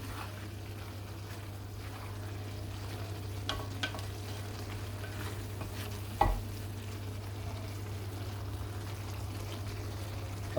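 Chicken keema with peas and garam masala cooks in a pan, a low steady sizzle with scattered scraping and stirring taps, including one sharper knock, and no talking.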